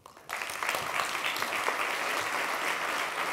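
An audience at a tech talk bursts into applause after a brief quiet moment, the dense clapping rising quickly and holding steady as a full, even wash of many hands.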